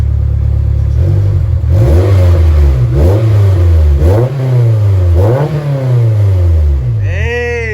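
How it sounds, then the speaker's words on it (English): A 2002 Honda S2000 AP1 with an Invidia N1 exhaust, warmed up, is revved loud and close in a run of about five sharp climbs, each dropping back to idle, before a brief higher whine at the very end. "Do some revs because now the engine is warm."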